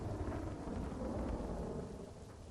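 Heavy monsoon rain pouring down steadily in a Botad town, a dense close hiss with deep thunder rumbling underneath throughout, no voices.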